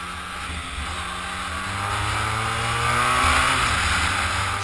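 A Honda VFR1200 motorcycle rides along with a steady engine drone that rises in pitch as it pulls through the gears, strong wind rush over everything, close and loud with no talk.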